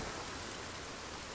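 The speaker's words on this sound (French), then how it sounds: "on va profiter de la pluie qui nous couvre du bruit" Rain in the video game Project Zomboid, a faint, even wash of broadband hiss that stays constant through the whole short stretch, with nothing else standing out.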